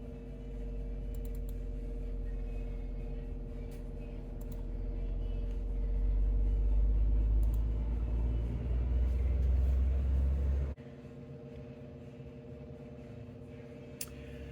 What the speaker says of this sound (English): So this is the dyno run with the pulse intake, just the way we had it in the previous runs